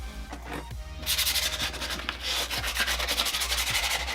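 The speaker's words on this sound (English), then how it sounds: "I'll grab the actual sandpaper and do it this way" Sandpaper rubbed by hand over a surface while making a Halloween costume, a close, continuous rasping scrub with rhythmic back-and-forth strokes that grow louder after the first second.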